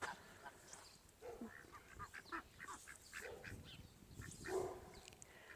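Swedish Blue and Rouen ducks, a mixed backyard flock near a swimming pool, give scattered quacks and honking calls at moderate distance over faint outdoor background, with one louder call near the end.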